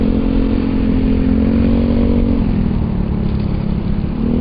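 A Suzuki Burgman Street EX scooter rides through city traffic, its engine droning steadily and loud up close, with a slight drop in pitch partway through as it eases off; no talking.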